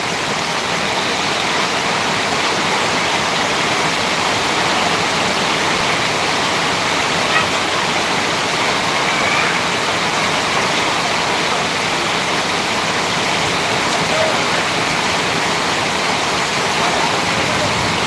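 Heavy rain pours down and rainwater flows, making a steady, dense rushing wash that stays even and fairly loud from start to finish.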